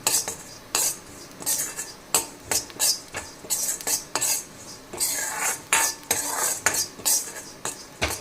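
Metal spoon scraping and clattering against a pan while spices for rasam powder are dry roasted, sharp irregular clinks and scrapes repeating closely, no talk.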